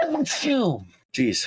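A single short sneeze bursts out beside close talk, followed after a brief pause by a second quick vocal burst.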